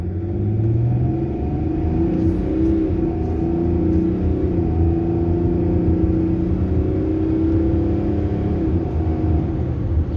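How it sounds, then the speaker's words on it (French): BMW 3-litre engine fitted in a Range Rover revving up, a close, loud mechanical rumble with tones rising and falling through repeated accelerations, no talk over it. "Allez, petite accélération là. Juste pour voir un petit peu ce moteur,"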